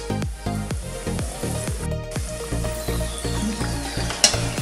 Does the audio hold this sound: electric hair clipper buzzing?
no